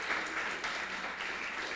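Applause from a church congregation, a brief burst of steady clapping heard up close with no speech over it.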